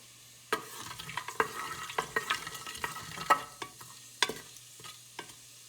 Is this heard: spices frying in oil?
yes